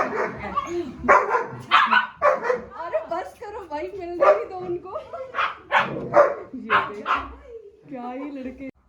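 Several dogs, including a German Shepherd and a Husky, bark, yip and growl in quick overlapping bursts as they scuffle playfully, close by and fairly loud throughout.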